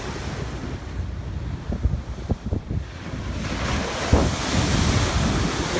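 Ocean surf at Balboa Beach rolls in with constant wind buffeting the microphone, broken by a few louder wave crashes and washes.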